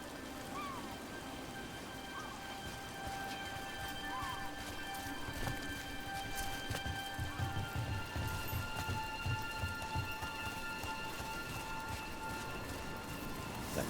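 Steady rain falling in the video game Dragon Age: The Veilguard, a soft continuous patter with occasional horse hoof clops and a faint whinny layered in.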